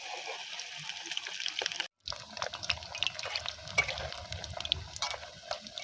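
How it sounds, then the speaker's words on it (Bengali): Pan pitha rice cakes frying in hot oil in a kadai give a steady, close crackling sizzle that breaks off briefly near the two-second mark, then resumes with scattered pops. "তেলটা গরম হয়ে গেছে। এবার আমি পিঠেটা ভেজে নেব।"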